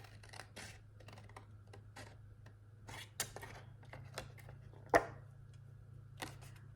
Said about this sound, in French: Et je vais venir faire une coupe en biseau